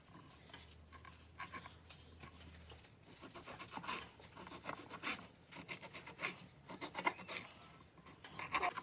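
Knife working through cooked carne asada on a board, mincing it as finely as possible for tacos; a steady run of close rasping, scraping cuts with sharper chops toward the end, with no talk.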